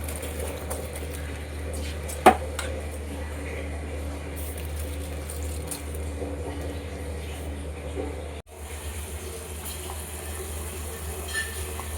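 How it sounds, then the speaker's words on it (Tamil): Water at a rolling boil in a cooking pot before rice is added, a steady dense bubbling hiss that continues throughout with one brief clunk. "இப்போ தண்ணி நல்லா கொதிச்சிருச்சு. இப்போ வந்து அரிசியை போட்டுக்கலாம்."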